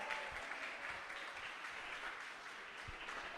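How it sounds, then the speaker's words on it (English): An audience at a pitch competition gives a round of applause, a soft, steady patter of many hands clapping that sounds somewhat distant and fades slightly toward the end. "Let's have a round of applause."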